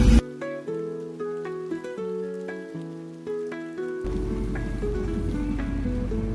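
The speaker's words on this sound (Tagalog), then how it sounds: "Wala pa rin tigil ang ulan." Heavy typhoon rain pours onto a flooded road in Guagua and Lubao, Pampanga. A steady, dense hiss of rain starts partway through, after a stretch of tonal music.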